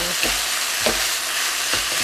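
Chicken stir-fried with holy basil and chopped long beans for pad kra pao, a steady close sizzle in the pan with three soft scraping stirs spaced about half a second to a second apart.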